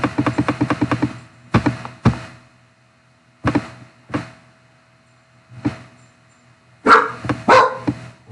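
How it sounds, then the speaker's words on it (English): A pet dog barks indoors in a fast run of sharp, loud barks, then several single barks and short clusters spaced by quiet gaps, with no talking over them. "My dog's barking, I'm sorry."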